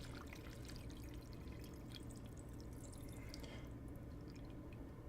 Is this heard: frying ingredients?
no